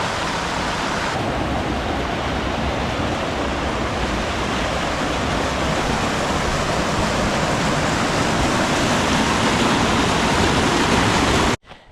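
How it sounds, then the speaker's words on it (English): A small waterfall by a bridge at a trailhead in Grand Teton National Park, Wyoming, rushes in a steady, loud, unbroken roar of splashing water, cutting off abruptly at the very end. "at the beginning of the trail we're greeted by this gorgeous little waterfall and bridge"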